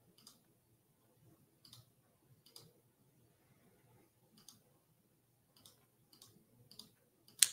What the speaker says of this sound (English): Guess you heard my mouse clicking.